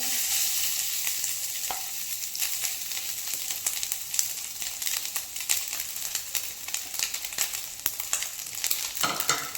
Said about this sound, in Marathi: याचमध्ये लगेच घालून घेऊया ओलं खोबरं म्हणजे छान असं भाजलं जातं